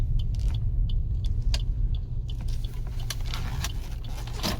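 A car is driven and parked, its engine giving a steady low rumble close by, with scattered clicks and small mechanical knocks over the top and no voices.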